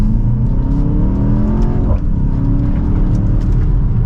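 A 2024 BMW X1 M35i accelerates hard in sport mode in second gear, its engine note climbing loud and close, dipping briefly at a shift about halfway before rising again.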